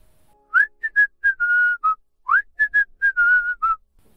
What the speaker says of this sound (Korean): 오솔길에서 흥겨운 휘파람 소리가 들려왔다.